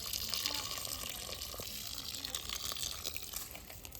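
Tap water runs steadily at a farmhouse, a continuous faint splashing flow with no breaks.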